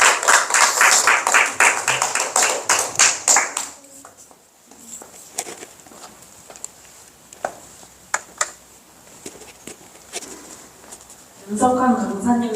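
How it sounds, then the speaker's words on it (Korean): A lecture audience applauds in a burst of dense clapping that fades within about four seconds, leaving a quiet room with scattered taps and knocks before a brief swell of noise near the end. "여러분에게 도움이 되셨으면 박수해 주십시오."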